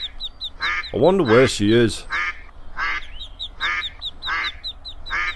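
Ducks quack repeatedly at a pond in the video game A Date in the Park, a steady series of short, nasal calls in an even rhythm, while someone speaks briefly partway through.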